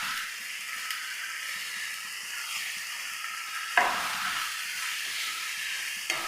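Chopped onion, tomato and coriander leaves frying and being stirred in a pan, a steady close sizzle and hiss with a sharp clatter of the spoon midway and no voices.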